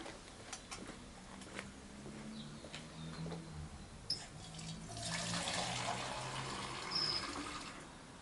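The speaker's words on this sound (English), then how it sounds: "there's always a tap handy for water" Water runs from an outdoor tap in a backyard, a steady hiss that swells louder in the second half over a low background hum, with faint clicks scattered throughout.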